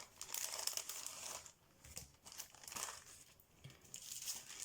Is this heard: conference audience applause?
no